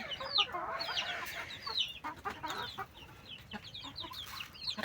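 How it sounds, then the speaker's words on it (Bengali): Many young chicken chicks in a coop, busy at their feed, keep up a dense stream of high, thin peeps and chirps, close by and steady with no voices. "মুরগির বাচ্চা ফিড খেতে খুব বেশি পছন্দ করে।"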